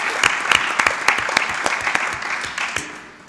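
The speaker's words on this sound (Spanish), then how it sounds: "vamos a dar un aplauso ahí para..." Short burst of applause from a small audience at a literary afternoon talk, distinct individual claps close by that gradually thin out and fade within a few seconds.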